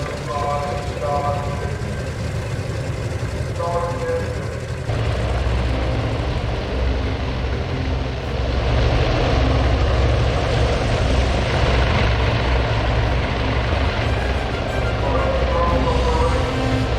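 WW2 aircraft engines drone on a carrier flight deck in Task Force Admiral, a loud, continuous propeller roar that swells partway through, with faint tonal notes underneath.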